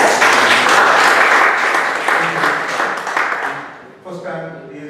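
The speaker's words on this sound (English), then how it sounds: "Toastmaster Faisal definitely deserves a big round of applause" Applause from a Toastmasters meeting audience in Mussafah for a speaker, a dense steady round of clapping that holds loud for about three seconds, then thins and tapers as a few voices come in over the last stretch.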